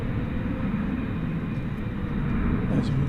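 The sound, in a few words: American Airlines Airbus A321 jet at DFW airport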